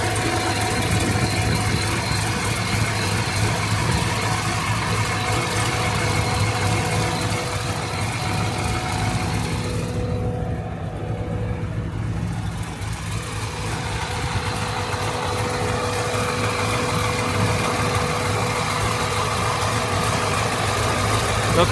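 A rebuilt Corvette Z06 engine with new headers idles steadily, a loud, even rumble that holds for the whole stretch.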